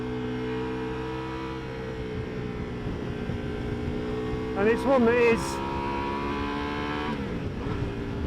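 Ducati Multistrada V4 Rally motorcycle engine running steadily with a sustained harmonic drone, with a brief rise and fall in revs midway and another shift near the end, heard under someone talking.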